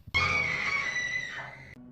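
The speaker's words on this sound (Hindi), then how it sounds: "फिर अचानक किसी चीख की आवाज सुनाई देती है।" A single loud, sustained scream rings out for nearly two seconds, then cuts off abruptly.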